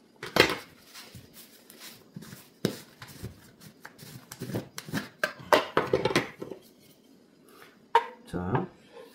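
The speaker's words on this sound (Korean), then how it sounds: "한번 저어 보겠습니다." A spoon stirs a thick chestnut jelly mixture in a pot over medium-low heat, making scattered close scrapes and knocks against the pot with short gaps between strokes.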